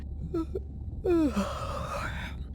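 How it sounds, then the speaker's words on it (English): A character in the game Beyond Blue lets out a long, drawn-out yawn after a short breathy sound, close and clear over a low background hum. "Was that a yawn?"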